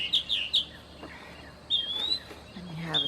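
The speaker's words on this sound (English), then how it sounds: "That bird is up there on that telephone pole again, singing and talking." A bird perched on a telephone pole in Georgia sings a few short high chirps, then a longer rising whistle and later a chattering call, moderately near against a quiet outdoor background.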